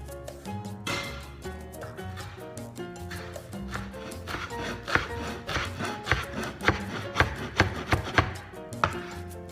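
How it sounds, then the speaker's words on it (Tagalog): A knife chops through parsley on a board in a home kitchen, with steady, fairly close blows that grow sharper and more evenly spaced toward the end, set against a faint musical background. "ikakat na natin itong parsley"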